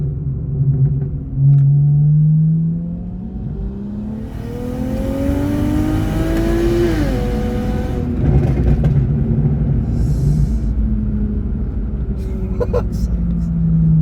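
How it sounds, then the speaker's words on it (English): A single-turbo BMW 335i with an upgraded fuel pump pulls from second gear: the engine idles low, then its revs climb steadily into a rising roar, dip sharply at a gear change and build again, heard from inside the car. "I'm gonna do one mini pull quickly, just from second gear up, and see what it does"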